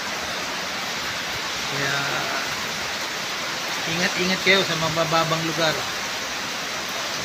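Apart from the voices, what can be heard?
heavy rain with strong wind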